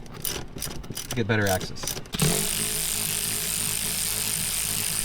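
Ratcheting of an H8 Allen wrench loosening the front seat bolts of a Ferrari F430, close and continuous after a brief spoken phrase.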